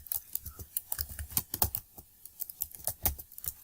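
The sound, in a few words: typing text on a computer keyboard in MS Word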